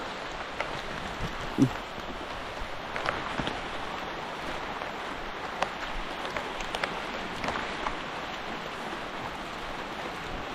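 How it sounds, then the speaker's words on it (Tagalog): Steady rain hisses over a vegetable garden with cucumber vines, a soft even patter with a few louder drips, no voices. "maulan na naman talaga"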